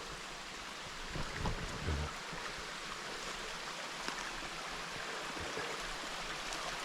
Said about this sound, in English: there's some nice little waterfalls